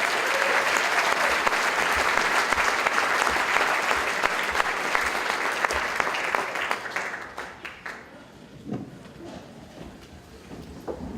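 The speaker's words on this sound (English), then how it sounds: "How about a huge round of applause for my very favorite storyteller of all time" An audience applauds as a storyteller is welcomed at a storytelling event, loud sustained clapping that fades out after about seven seconds, leaving a quieter room with a few scattered sounds.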